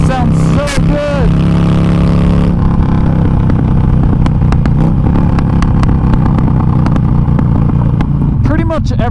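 A 2013 Harley-Davidson Forty Eight motorcycle with a 60-horsepower engine, rumbling loud and close in a steady, throaty drone, with sharp revs rising near the start and again at the end.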